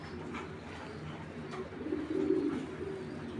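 A male Afsan grizzle pigeon gives soft, low, throaty coos that swell slightly partway through, quiet and fairly close against faint background noise.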